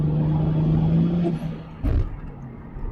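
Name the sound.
Toyota Supra car engine revving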